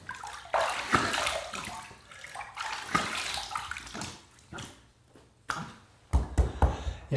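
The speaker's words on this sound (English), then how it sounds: "third pass done, let's rinse." Water splashing and rinsing at a sink after a wet shave, a series of close, irregular splashes and trickles with short pauses between them, fairly quiet and without talking.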